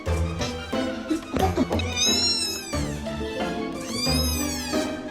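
A black cat meows repeatedly in close, loud, drawn-out calls with rising and falling pitch, over music or a TV playing in the background.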